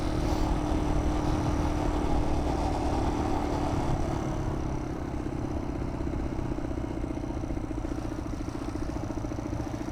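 A Magnus Corda 200 (Lifan 200) Chinese enduro motorcycle with its original exhaust idles close by after several years off, a loud steady clattering single-cylinder putter that holds even for ten seconds with no one speaking.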